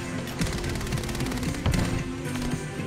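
Point-blank gunfire in a video game, with FJX Horus and Renneti weapons: rapid bursts of shots crack in quick succession over a busy background, with one heavier impact partway through.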